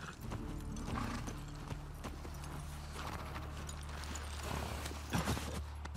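Horse hooves in the video game The Last of Us Part II clip-clop at a steady walking pace over a low droning background hum, with a brief louder clatter near the end.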